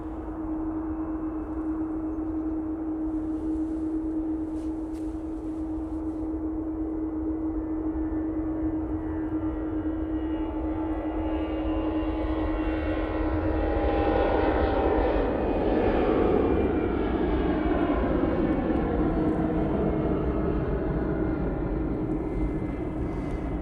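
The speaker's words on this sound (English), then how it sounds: "There is a plane taking off" A plane taking off at Manchester Airport, a loud continuous roar of aircraft engines that swells and rises in pitch as it powers down the runway, with a steady tonal whine running underneath.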